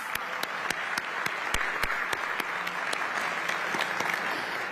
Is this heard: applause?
yes